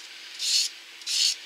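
Born Pretty 100 grit sponge file rubbed across a nail, two short, crisp scraping strokes with a quiet gap between them, close and clear.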